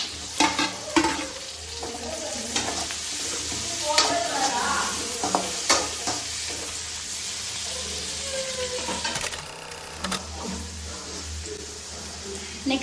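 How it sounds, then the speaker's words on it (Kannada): Tomatoes fry in a pan for paneer butter masala, hissing and sizzling steadily while a spoon stirs and scrapes in repeated close strokes. "ಈಗ ಟೊಮೆಟೊ ಹಾಕೊಳ್ಳೋಣ."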